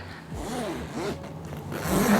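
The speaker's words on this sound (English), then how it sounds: "The zipper is buttery smooth compared to the old one." A smooth zipper being pulled on a MinkeeBlue Ella Tote 2.0 bag, a single close, steady zip lasting about two seconds.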